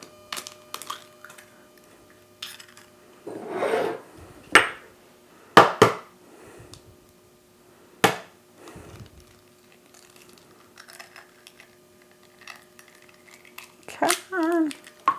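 Two eggs cracked and whisked in a bowl for apple fritter batter, sharp clinks and taps of utensil on bowl in uneven bursts, close and clear, with brief talk near the end.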